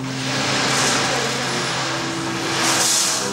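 A percussion instrument mimics ocean waves with a continuous loud, hissing wash of rolling grains that swells twice like surf breaking, close and steady with no voices.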